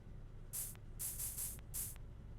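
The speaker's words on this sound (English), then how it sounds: "I gave the aluminum bottle to the bailiff and he started spraying the ruler." Spray bursts from an aluminum bottle aimed at a ruler in a courtroom video game, heard as four short hissing sprays over a faint static background.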